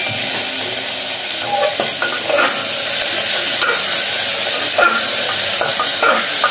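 Potato pieces fry in hot oil in a home kitchen, giving a steady loud sizzle and hiss broken by scraping, clattering strokes of a utensil as they are stirred.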